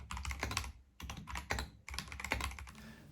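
Bursts of typing on a chunky computer keyboard, dense clattering keystrokes in three quick runs separated by brief pauses, close and clear with no talking.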